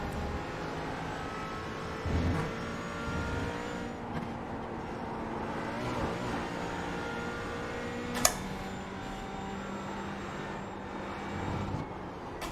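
A GT4 race car in the iRacing sim, running the Falken Tyre Challenge at Motorland Aragon, drones at steady engine pitch with layered harmonics. The tone shifts through gear changes, and a sharp click sounds near the end.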